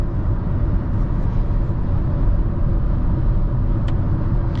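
Road noise fills the cabin of a 2024 Hyundai Elantra base trim while driving, a steady low rumble of tires and engine at constant level with no talking.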